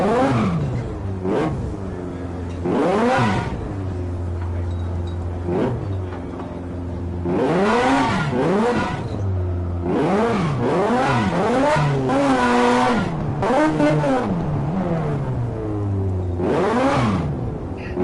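Loud video-game car engine in Need for Speed Hot Pursuit Remastered, revving in repeated rising and falling sweeps with whirring tire noise as the car spins out under a handbrake turn, steady and close throughout.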